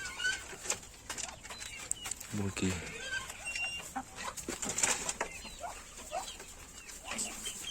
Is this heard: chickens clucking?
yes